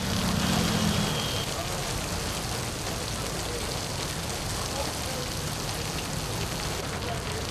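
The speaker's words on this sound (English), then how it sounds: "The march restarted around midsummer, right in the middle of the monsoon rains." Heavy monsoon rain falls in India in a continuous dense hiss of drops hitting the ground, steady and loud throughout with no break.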